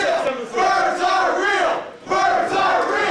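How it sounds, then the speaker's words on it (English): A wrestling crowd at a live show chants in unison, a loud rhythmic group chant that repeats in two bursts with a brief dip between them. "As we hear the crowd chanting"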